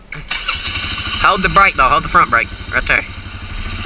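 A Can-Am Outlander 450 ATV engine cranks and starts near the microphone, settling into a steady idle while a man gives short instructions over the running engine.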